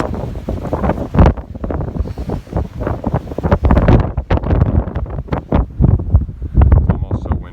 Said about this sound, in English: It's almost so windy you can't hear yourself think.